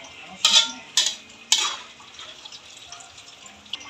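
Cooked peanuts for adobong mani are drained, with three quick clattering pours of nuts and water into a strainer followed by faint rattles and a small tap, with no talking.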